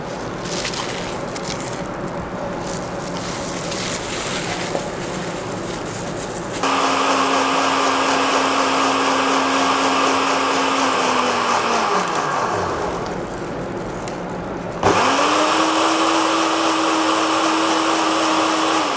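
Electric blender whirring loudly as it blends watermelon juice with salt, green chili, black salt, crushed ice and water. The motor runs in long steady bursts, stopping briefly and starting again with a rising whine, and no voice is heard.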